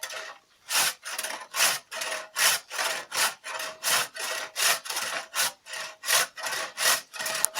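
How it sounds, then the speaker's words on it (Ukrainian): A hand saw cutting through wood in a steady rhythm of about sixteen rasping strokes, close and fairly loud, with no talking over it. "І зараз покажу, як я ріжу здорово."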